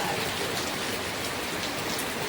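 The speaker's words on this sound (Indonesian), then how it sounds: "Hujan." Steady rain falling, a dense continuous hiss of drops close by, loud and unbroken with no voices.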